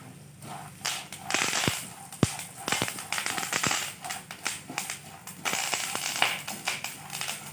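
Curry leaves crackle and spit in hot oil while tempering for a Tamil Karthigai pori dish, with irregular sharp pops over a continuous sizzle.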